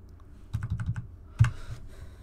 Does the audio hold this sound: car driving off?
no